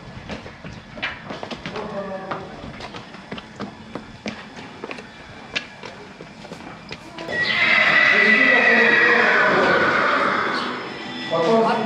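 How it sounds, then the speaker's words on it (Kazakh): Horses at a resting stop where they are brought for water and feed, with loud whinnies and hoof clatter. Voices talk over them at first, then a broad, sustained burst of noise swells and dominates the second half. "Аттар әрбір 4-5 сағат сайын мына жерге демалуға келеді."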